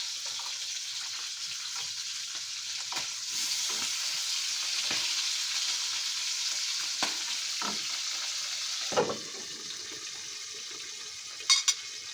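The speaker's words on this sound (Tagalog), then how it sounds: "Yun ano ang ayaw ko yung talsik ng mantika." Hot cooking oil spattering and sizzling in a pan during an early-morning kitchen fry-up, a steady dense crackle with scattered louder pops and a couple of sharp clatters near the end, no voices.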